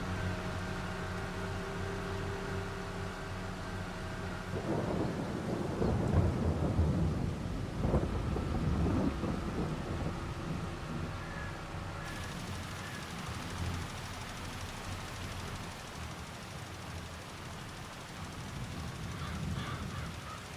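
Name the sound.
rain and thunder over a farm field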